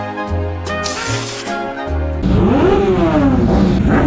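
Motorbike on a street in Naples, with no exhaust fitted, revving up hard and loud, its engine pitch climbing then falling as it passes close by, after a stretch of intermittent lower engine pulses.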